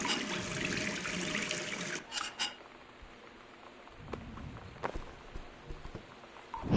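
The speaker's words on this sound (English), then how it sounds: "Did you flush the toilet?" Toilet flushing in the video game Gone Home, a loud rushing burst of water for about two seconds that drops to a softer trickle and refill, with a few faint knocks and clicks afterward.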